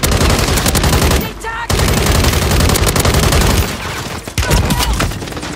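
Rapid automatic gunfire from the Call of Duty Warzone video game: loud, dense bursts of rattling shots that continue almost without a break, with a short pause midway and another near the end.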